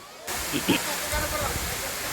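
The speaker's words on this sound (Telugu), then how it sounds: "సుమారు రెండు వందల డెబ్భై అడుగుల హైట్ నుంచి ఆ గంగమ్మ పడుతుంటే" Thalakona waterfall, with water dropping from about 270 feet, sends up a constant broadband roaring hiss. It starts suddenly and fills the whole clip, with a few faint voices mixed in.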